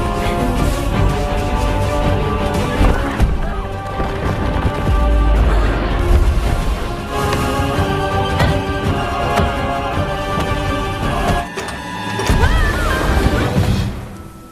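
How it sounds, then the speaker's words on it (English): A house crumbling in the animated Disney film Encanto, with repeated crashes and smashing glass over dramatic orchestral music, loud and continuous with a brief lull near the end. "the house began to crumble"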